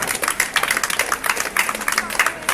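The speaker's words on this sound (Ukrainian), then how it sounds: "Оплески хлопцям богатирям Закарпаття." A crowd at an Olympic Day event in Uzhhorod applauds with dense, steady clapping while voices carry over the top.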